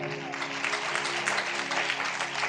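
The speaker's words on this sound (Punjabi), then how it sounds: "ਤਾਲੀ ਮਾਰੀਏ ਜ਼ੋਰ ਦੇ ਨਾਲ" A congregation claps hard during a Punjabi sermon, a dense, continuous patter of many hands at moderate distance, steady from start to finish.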